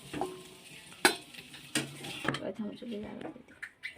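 Fried potatoes are stirred in a hot pan and lifted out. A metal spoon clatters and scrapes against the pan in sharp, irregular knocks over a soft, continuous sizzle, with no voices.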